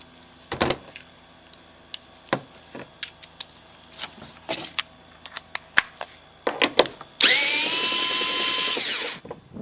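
Pneumatic impact tool on a 2005 Toyota Highlander radiator sensor during a radiator replacement, a loud sustained whirring burst of about two seconds after scattered clanks and taps of handling tools.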